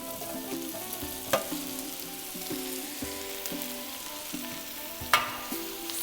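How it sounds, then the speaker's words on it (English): Mushrooms sizzle steadily in a really hot pan, a continuous bright frying hiss with a couple of sharp clicks and soft clatter of the pan, no voices. "You want to hear the sizzle."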